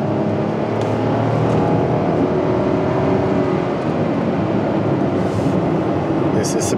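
Steady engine and road drone fills the cabin of a Saab 9-5 as the car pulls away, a continuous, moderately loud rumble without clear rises.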